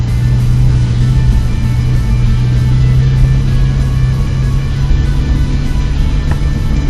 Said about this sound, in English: Porsche on track.